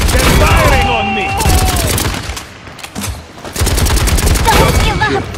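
Rapid automatic gunfire and bursts of shots rattle loudly in the Paladins online shooter, layered with game voices and effects, dipping briefly midway before the dense firing resumes.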